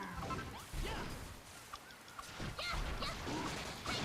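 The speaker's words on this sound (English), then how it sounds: "The chickens will usually run away, or cower in fear." Chickens in the video game Dragon Quest Builders 2 give short, honking fowl calls in scattered bursts, fairly quiet against a faint game background.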